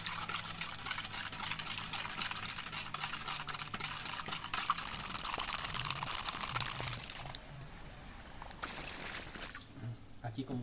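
Water runs and splashes into a container holding powdered fertilizer being dissolved for tomato fertigation, a continuous close pouring and stirring wash that eases off near the end, with faint talk underneath.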